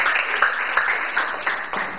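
Students applaud their classmates indoors, a short burst of steady, fairly close clapping from a group.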